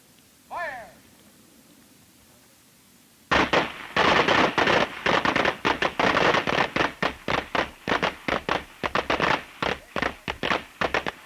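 Handguns fire on a police firing range, a rapid string of sharp, loud cracks following a shouted command, near and echoing, the shots coming in an uneven rhythm that slowly spaces out.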